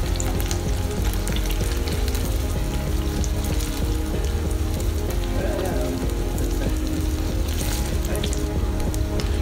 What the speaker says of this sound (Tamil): இதை வந்து திருப்பி திருப்பி போட்டு பொரிய விடுங்க